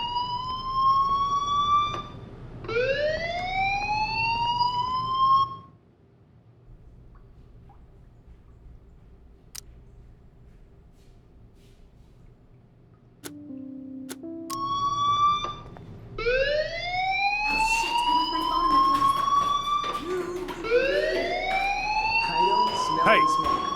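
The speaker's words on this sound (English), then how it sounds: "Hey, do you hear that fire alarm?" Electronic fire alarm in the video game Life is Strange, rising whooping tones that sweep upward in repeated bursts, loud and close, falling silent for several seconds before resuming in overlapping cycles.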